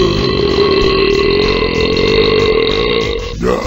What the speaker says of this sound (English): To eruct is to belch